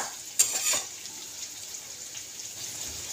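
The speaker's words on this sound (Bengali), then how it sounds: "তো এই যে ভাজা ভাজা হয়ে গেছে পেঁয়াজটা" Onions fry in a pan, with a few quick stirring scrapes near the start followed by a soft, steady sizzle.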